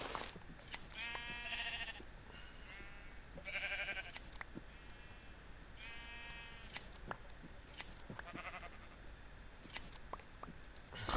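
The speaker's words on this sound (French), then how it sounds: "regardez-moi tous ces moutons qu'il y a encore" Sheep in the video game Minecraft bleat in a string of wavering calls among a flock, with sharp clicks scattered between them and no talk.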